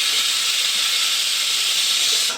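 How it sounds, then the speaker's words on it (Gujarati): A kitchen pressure cooker lets out its whistle as one loud, continuous high steam hiss. It holds steady for about two seconds, then cuts off abruptly. No one talks over it. "રસોડામાં આવ્યો ને કુકરે સીટી ચાલુ કરી"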